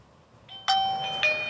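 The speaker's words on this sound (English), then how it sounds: "you can immediately start hearing that chime" A Eufy Chime 2 electronic doorbell chime rings close and clear, with two bright tones struck in quick succession, each ringing on briefly.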